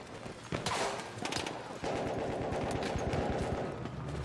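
Rapid automatic gunfire in the World War I shooter Battlefield 1, a few scattered shots followed by a long, steady burst of machine-gun fire, fairly close and unbroken.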